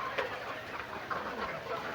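Fayoumi chickens on a farm cluck and call steadily while pecking at grass, a dense, busy flock sound with a few louder calls over constant rustle.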